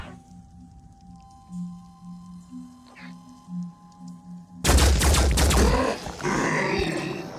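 Gunfire in the tactical video game Phoenix Point, aimed at a Triton creature, breaks out as a loud dense burst of shots and impacts after a stretch of quiet game ambience with low droning tones.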